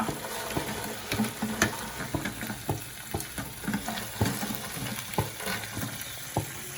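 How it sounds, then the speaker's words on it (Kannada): Deep-fried paneer goes into a pan for paneer manchurian, giving a busy crackling sizzle with repeated scraping stir strokes throughout. "ಇವಾಗ ನಾವು ಇದು ಪನ್ನೀರ್ ಡೀಪ್ ಫ್ರೈ ಮಾಡ್ಕೊಂಡಿದ್ವಲ್ಲ ಅದು ಹಾಕೊಂಡ್ಬಿಡೋಣ"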